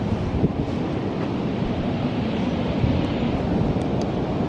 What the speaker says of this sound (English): Today isn't bad, it's just really windy.